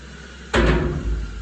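A heavy steel door on a bunker swings shut with one sharp, loud slam up close, followed by a short metallic rattle and a second softer thud as it settles.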